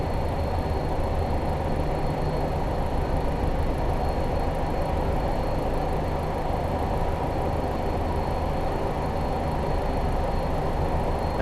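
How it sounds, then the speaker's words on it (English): A Class 20 diesel locomotive in Train Simulator 2017 runs steadily along the line, giving a continuous loud engine rumble and rolling wheel noise with no break. "I'm just going to idle the power at this point and allow the train to coast"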